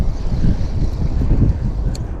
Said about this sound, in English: that wind is a little on the brisk side